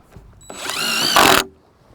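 Power drill driving 1.5-inch SD screws through a Simpson L70Z seven-inch L bracket into a deck joist corner, one short whining burst lasting about a second that rises in pitch and stops abruptly, close and alone.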